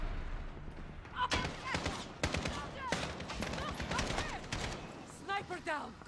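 Rapid gunfire bursts and single shots from the game Call of Duty: Modern Warfare (2019), a busy firefight with overlapping reports and distant booms, while a player talks over the action.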